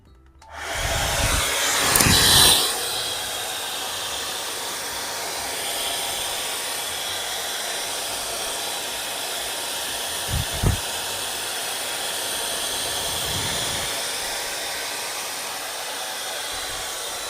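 A hair dryer blows continuously as hair is blow-dried. The steady, close, whooshing airflow switches on loudly, then runs evenly for the rest of the time, with a few faint knocks.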